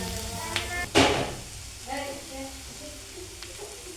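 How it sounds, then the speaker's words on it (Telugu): Spices are stirred into a cabbage and split lentil fry in a pan, with a soft steady sizzle, a few spoon scrapes and clinks, and a voice talking at times. "ఇప్పుడు కలిపేసుకుంటున్నాను అంతా మొత్తం."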